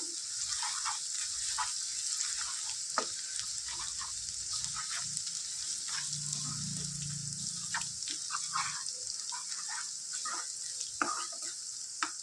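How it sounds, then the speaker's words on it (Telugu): Ginger garlic paste fries with onions, chilies and turmeric in a pan, sizzling and hissing steadily under occasional stirring scrapes and soft taps. "అల్లం వెల్లుల్లి పేస్ట్ పచ్చివాసన పోయే వరకు ఫ్రై చేసుకుందాం"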